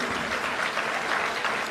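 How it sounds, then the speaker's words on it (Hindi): Crowd applause for an arriving national party president at a Bihar political rally, dense steady clapping from many hands filling the whole stretch without a break. "इनके सम्मान में जोरदार ताली बजाइएगा"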